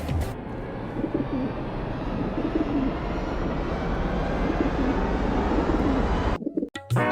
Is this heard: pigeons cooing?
yes